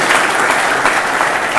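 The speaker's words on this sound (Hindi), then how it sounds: "जोरदार ताली बजाए एक बार" Audience applause at an agriculture coaching institute event, a dense steady wash of many hands clapping at once, loud and close, filling the whole moment without talk.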